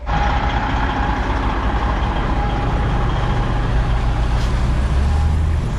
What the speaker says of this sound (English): So Darren's gonna take off in that front truck